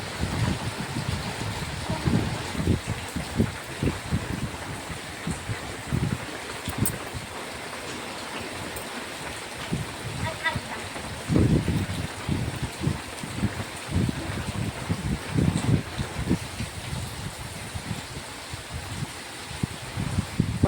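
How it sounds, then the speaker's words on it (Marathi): Heavy rain pours down outdoors on a farm, a steady rushing hiss with irregular gusty bursts of wind buffeting the microphone throughout, no talk. "खाली वल्लच येतं थोडा पाऊस आला का लगेच पाणी व्हायला सुरुवात होती"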